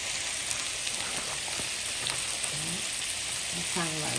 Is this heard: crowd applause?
no